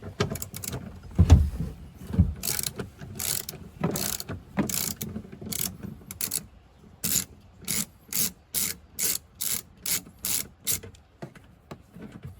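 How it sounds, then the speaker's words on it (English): A ratchet loosens a seat bolt inside a Suzuki Jimny. Bursts of rapid clicking come close and clear, then settle into a regular series of short ratcheting strokes with quiet gaps between them. "So I'm going to loosen this, and then it seems like there's another bolt that goes into the body that I'll also just remove."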